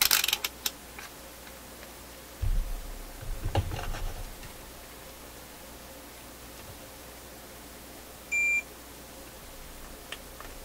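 A test beeper on a vacuum tube PA amplifier gives one short, clear electronic beep amid faint background hiss and a few handling clunks.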